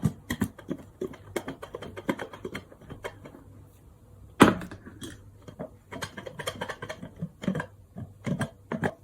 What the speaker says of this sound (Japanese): 蓋をして鍋を振ります。